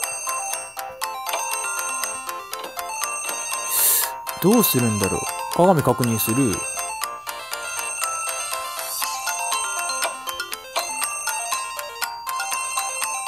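A telephone rings in the Japanese horror puzzle game ドッキリ神回避2, with bright repeated trills through the middle of the clip over constant game music, while someone talks.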